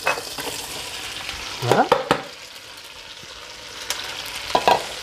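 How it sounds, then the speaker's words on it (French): Onions frying in a pan under a soft background sizzle, broken by a few sharp clattering stirs and scrapes against the pan; one person speaks briefly at the start. "Ensuite, on va incorporer les oignons."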